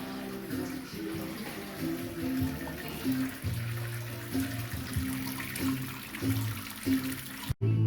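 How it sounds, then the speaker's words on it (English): Sweet wort running out of a homemade sparging setup while brewing a Nelson Sauvin single-hop IPA: a continuous close trickle and splash of flowing liquid with some low background tones, ending in a brief dropout. "You can see my sparging's going perfectly. Really, really good. Nice sweet liquid coming out."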